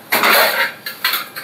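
An empty metal plate kicked across a floor at home clatters loudly in one long ringing scrape, followed by two or three quicker, fainter rattles as it settles.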